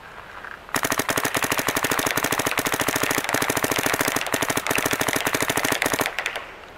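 A Dye DSR paintball marker fires a long, fast, steady string of sharp pops, close and loud, running nearly continuously for about six seconds before stopping.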